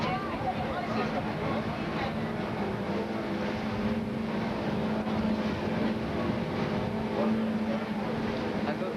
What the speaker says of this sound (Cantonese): 呢個 Captain 揸船仔喺度